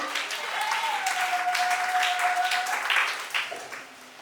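Church congregation clapping in applause for Jesus, a loud sustained wash of hands filling the room with a held sung or shouted tone over it, then tapering off near the end.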